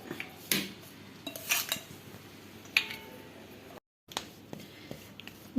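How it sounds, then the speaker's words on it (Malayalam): A spoon scoops rava kesari, a semolina sweet, onto a plate, making scattered, faint clinks and scrapes of metal against crockery. "നമുക്കിനി പ്ലേറ്റിലോട്ട് ഇത് കോരി ഇങ്ങനെ വെച്ച് സെറ്റ് ചെയ്തെടുക്കാം"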